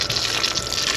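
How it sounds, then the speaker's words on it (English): A garden hose set to a jet nozzle sprays a steady, close, loud rush of water without a break. "I have my hose and I have it set on a jet."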